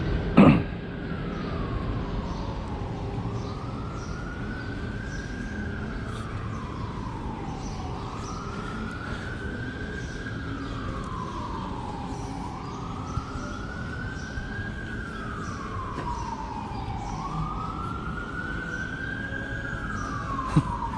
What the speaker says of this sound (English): Sirens in the back.